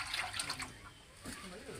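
Rubber latex poured into a container of acid for coagulation, a soft liquid splash and trickle near the microphone, strongest at the start and again toward the end, with a voice speaking over it.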